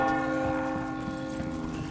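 A church bell rings in the Resident Evil 4 remake, its sustained metallic tone humming steadily and loudly with a deep resonant hum that slowly fades, heard alone.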